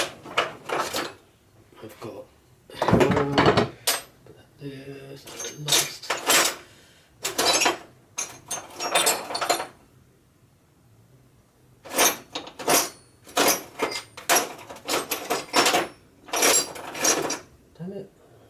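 A hammer strikes a punch to drive a rivet out of a Morakniv and Opinel hybrid knife held in a vise, giving a few sharp metallic blows in a short cluster amid close talking.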